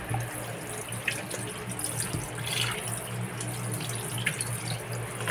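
Cleaned tilapia fish being rinsed under running tap water in a kitchen sink, a steady faint stream with light splashes and drips as the fish are handled, no talking.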